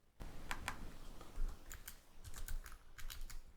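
Rapid keystrokes on a computer keyboard as a file name is typed, a steady run of light clicks with a few brief pauses, close and clear with no talking.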